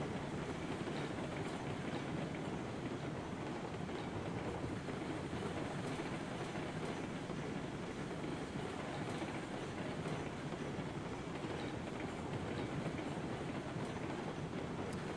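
A train rolling along in the video game Railroads Online, with a continuous rumble and rhythmic rail clatter at steady volume throughout, no voices.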